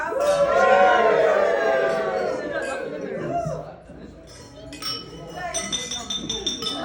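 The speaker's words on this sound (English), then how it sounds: "So everybody, please raise a glass to Tom and Karen and 50 years together." Wine glasses clink at a 50th anniversary toast, a bright ringing chime early on with scattered lighter clinks later, mixed with crowd chatter and voices.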